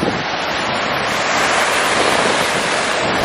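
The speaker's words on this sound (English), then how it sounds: "We finna get in the ocean." Ocean waves break steadily on a Cancun beach, a loud, continuous rush of surf close to the microphone, mixed with wind buffeting and no talking.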